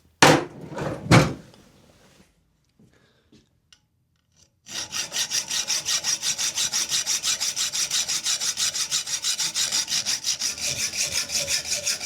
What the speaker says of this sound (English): I'm going to get the saw out and get it trimmed off